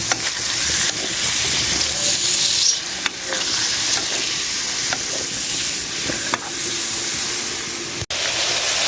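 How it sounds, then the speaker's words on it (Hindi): Round gourd (tinda) frying in hot oil for masala tinde fry, a loud continuous sizzle with scattered crackles and a few soft knocks, no voices over it. "अभी इसमें डालूंगी टिंडे। बिस्मिल्लाह। ये भी साथ फ्राई हो जाए"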